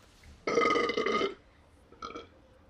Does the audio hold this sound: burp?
yes